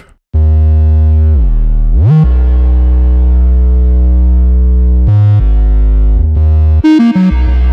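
Deep, sustained 808 sub-bass tones gliding between pitches, wrapped in a washy, echoing reverb haze from FL Studio's Fruity Reverb that lingers over each note; loud, electronic, no voices.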